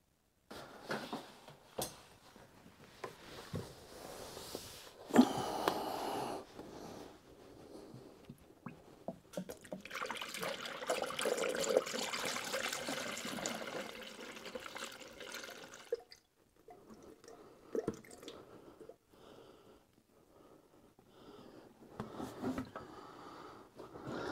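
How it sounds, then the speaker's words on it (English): Coolant pouring into the engine of a Volvo BM 500 tractor, a steady liquid splashing and trickling that runs for several seconds, with drips and clatter around it and quieter gaps near the end. "Let's fill some coolant"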